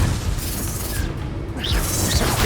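Confringo fire spell blasts from the video game Hogwarts Legacy, a dense, loud roaring burst with whooshing sweeps layered over continuous low booming combat noise, no voices.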